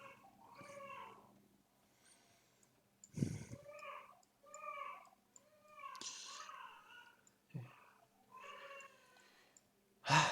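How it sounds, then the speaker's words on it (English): A house cat meows repeatedly indoors, giving a series of insistent, wavering cries of varying length with short pauses between them, fairly close and moderately loud. "Just my cat wanted to get out."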